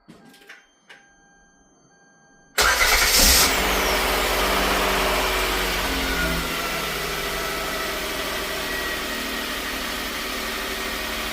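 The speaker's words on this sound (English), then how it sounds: "Now we can crank our engine and see if our starter works." A Hyundai Santa Fe 3.3L engine cranks with a newly installed starter after a few quiet clicks, catching with a loud burst and settling into a steady idle, heard close up.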